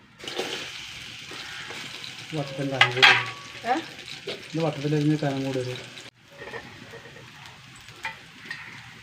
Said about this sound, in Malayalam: കുറച്ച് എണ്ണ ഒഴിച്ചു കൊടുക്കുക ഒരു പത്ത് ചെറിയ ഉള്ളി വട്ടത്തിൽ അരിഞ്ഞത്